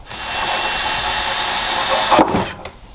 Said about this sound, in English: I'll drill the hole, heat up the lighter